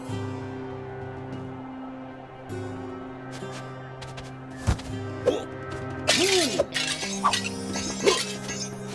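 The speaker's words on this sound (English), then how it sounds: "You really smashed those objects!" Objects are smashed in the Hotel Transylvania video game, giving several sharp glassy shattering and breaking crashes in the second half over steady game music and chiming effects.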